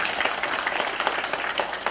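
Congratulatory applause from an audience at a Chungbuk happy village contest, a dense, steady patter of many hands clapping for a village from Danyang County, moderately loud and continuous throughout.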